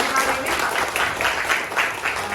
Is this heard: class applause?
yes